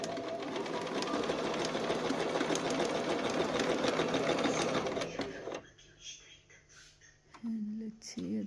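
A Bernina 1030 Swiss sewing machine runs a zigzag stitch with a rapid mechanical whir and rhythmic ticking, then stops abruptly. A voice is heard faintly near the end.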